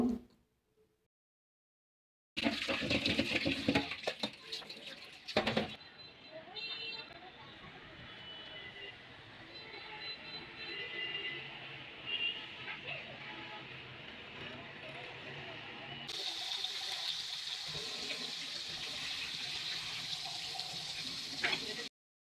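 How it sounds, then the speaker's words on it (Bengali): Pangas fish being washed under a running kitchen tap, a continuous splashing hiss of water close by that begins after a brief silence and carries on throughout, with the stream shifting in tone partway. "এগুলো ভালো করে ধুয়ে নিচ্ছি"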